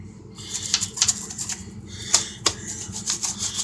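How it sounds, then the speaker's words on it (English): Cloth rubbing and wiping a dirt spot off kitchen trim, a series of short scuffing rubs and squeaky swipes in an uneven rhythm, close and fairly quiet. "there's this dirt spot on the front of the trim here that I want to get off."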